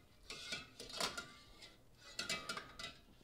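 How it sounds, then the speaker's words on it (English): Melting chocolate being stirred in a bowl set over hot water, heard as light, irregular scrapes and clinks of a utensil against the bowl in two short bursts, close and fairly quiet. "And we're gonna stir it until it's completely melted."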